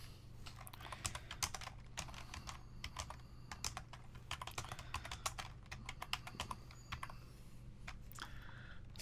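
Steady typing on a computer keyboard while entering web page text, with quick, irregular clusters of soft key clicks that are faint and close.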